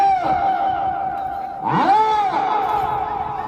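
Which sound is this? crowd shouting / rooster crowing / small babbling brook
crowd shouting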